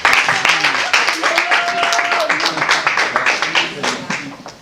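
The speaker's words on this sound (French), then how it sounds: "j'aimerais avec vos applaudissements qu'on accueille M." Audience applause welcoming a speaker at a community event, dense close clapping mixed with scattered voices and cheers, gradually thinning toward the end.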